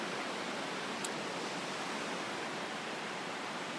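Ocean surf rolls at La Jolla beach at night, a dense steady wash of breaking waves heard close and fairly loud with no voices over it.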